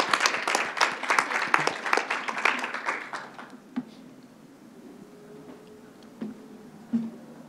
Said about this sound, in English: Let's have a round of applause for her.